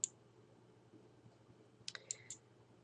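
Computer mouse clicks while working in EndNote software: one sharp click at the start, then a quick cluster of three or four crisp clicks near the end, close and distinct over a faint, quiet room hum.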